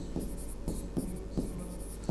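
Handwritten notes on paper produce soft pen scratches and strokes in short irregular bursts, close and quiet.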